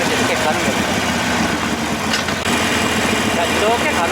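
A Harley-Davidson Iron 883 motorcycle engine braking through a corner, a steady loud engine drone with road and wind rush running throughout, while someone talks over it.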